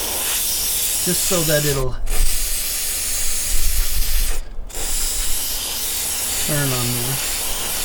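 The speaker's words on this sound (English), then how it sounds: "Alright, we'll get this sprayed up really good right here." Sustained spray hiss underneath a vehicle at a 2020 West Coast HDT rally, steady and close with two brief cut-offs, while someone talks over it.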